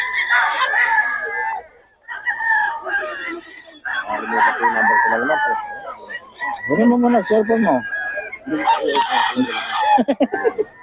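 Roosters crow loudly and repeatedly at a Bocaue market, their calls overlapping as someone talks over them at close range.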